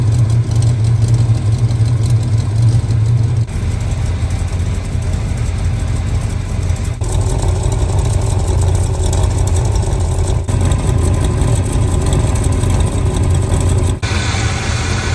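A revived 1970 Dodge Dart Swinger engine running loudly up close, a rough steady idle with low rumbling that shifts in tone a few times.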